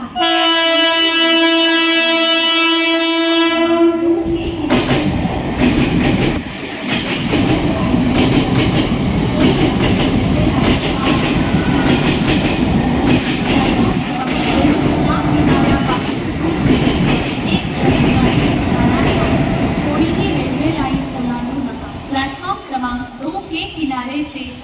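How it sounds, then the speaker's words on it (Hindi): A Mumbai local fast train blares its horn at a station platform, then roars past with a long, loud rumble and rail clatter that fades slightly toward the end, while a platform announcement plays over it. "प्लॅटफॉर्म क्रमांक 2 च्या किनाऱ्यापासून दूर उभे राहा, एक जलद गाडी जाणार आहे।"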